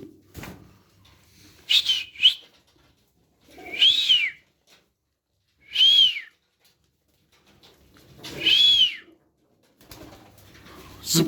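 Tumbler pigeons give four or five separate rising whistled coos spaced a couple of seconds apart, fairly near and clear against a quiet outdoor background.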